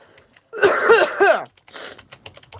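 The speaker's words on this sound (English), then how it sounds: "I got a cough" A close, raspy cough with a wheezy, throat-clearing rasp, followed by a shorter second hack and some faint clicking.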